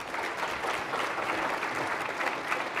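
Audience applause at a forum with candidates for State Superintendent of Public Instruction, a dense, even clapping from a room crowd lasting a few seconds without a break.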